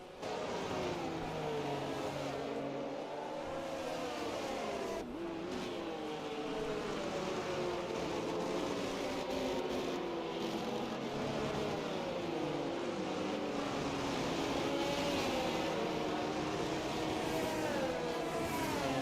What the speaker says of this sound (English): So the drivers are warming their tyres up down the back straight here, getting themselves ready